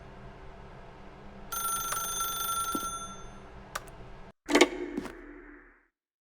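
A telephone rings in a video game, a steady electronic bell tone that sounds for a while, then is cut off by a louder click and rattle as the receiver is picked up, with a brief room tone after.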